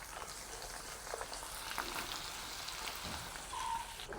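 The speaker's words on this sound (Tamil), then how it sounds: "இருக்கிற மிச்ச கருவாடையை நாங்கள் பொரிச்செடுப்போம்." Dried fish (karuvadu) fries in hot oil, a steady, dense close-up crackle and sizzle that holds evenly throughout without any talking.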